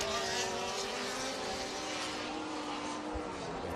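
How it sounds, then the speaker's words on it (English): Engine exhaust of a white off-road race buggy at a TORC short-course off-road race in Michigan's Upper Peninsula, a steady droning note receding into the distance, with faint crowd and track noise around it. "We're hearing a different exhaust note from the white buggy going away from us."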